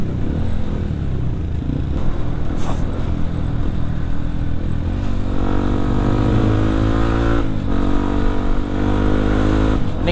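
A Yamaha WR155R motorcycle being ridden, its engine droning steadily up close with rising and falling revs, wind rush and some clatter, and a brief dip partway through.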